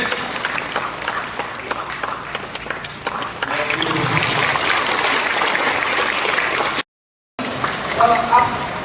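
Audience applause at a general meeting in Dimapur, Nagaland, a steady crowd of clapping that fills the room and carries on under voices, with a brief gap before it resumes.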